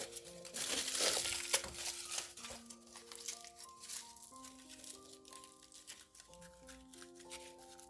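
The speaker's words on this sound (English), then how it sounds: "I'm gonna cover it with aluminum foil in the size and shape I want for this ghost" Aluminum foil is crumpled and pressed around a small aromatherapy bottle to form a ghost, giving a crinkling rustle that is loudest at first and fades into fainter crackles under soft background music.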